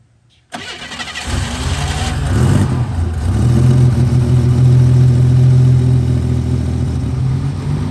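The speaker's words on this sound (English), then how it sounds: "let's crank her up. See how it does." An abandoned one-owner Buick Grand National turbo, with old gas and a fresh turbo, cranks briefly on the starter, catches, then settles into a loud, steady, rumbling idle that swells slightly as it runs.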